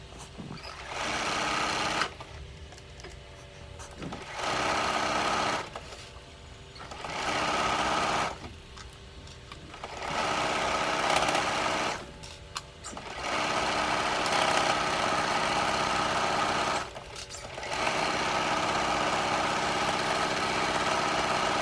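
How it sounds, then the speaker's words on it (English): A sewing machine stretch-stitches the hems of leggings in bursts of fast steady whirring, each lasting a few seconds, with brief quiet pauses between runs. "using your stretch stitch or maybe a double needle or your cover stitch to hem the bottom of your Eden leggings"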